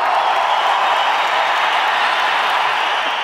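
A large audience at a Tamil film audio launch event claps and cheers in a steady, dense roar that holds at full loudness throughout, with no voices standing out.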